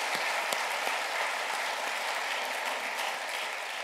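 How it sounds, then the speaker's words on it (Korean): A church congregation applauds its worship leaders during a Sunday service, a dense, even roar of many hands clapping that fills the room throughout. "찬양 인도하시는 목사님과 사역자들 우리 한번 큰 박수로 격려해 주시면 감사하겠습니다."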